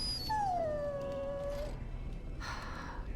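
A dog in Dragon Age: Origins lets out a single drawn-out, high whining whimper that slowly falls in pitch, followed by a short burst of game noise.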